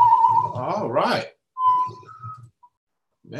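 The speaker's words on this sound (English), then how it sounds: "y'all caught me whistling here" A man whistles a short tune close to the microphone, with a few sustained whistled notes mixed in among bits of his own talking.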